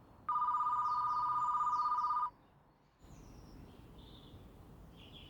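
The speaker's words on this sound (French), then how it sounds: "Claire range la cuisine quand le téléphone fixe sonne." A landline telephone in a quiet house rings with a steady electronic tone that lasts about two seconds, then stops, leaving faint background noise and a few soft chirps.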